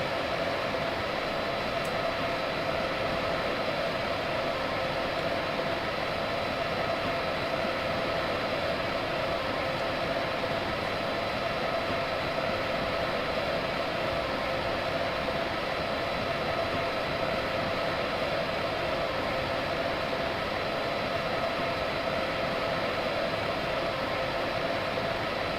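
An electric locomotive in Train Simulator 2016 sets off on a training run, a steady, even rumble and hiss of motor and motion that holds constant for the whole stretch, with no voices over it.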